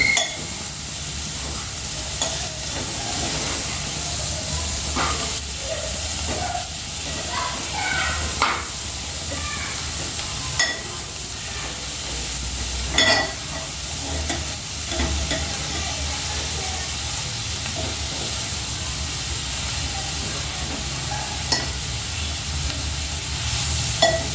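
Chana dal and garlic fry in hot oil for amaranth leaf stir-fry, a continuous crackling sizzle punctuated by repeated scraping stirs of a spoon against the pan, close and fairly loud throughout.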